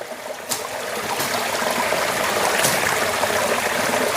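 Spring water flowing down toward a falls, a steady close rushing trickle with a few brief splashes, heard alone without voices.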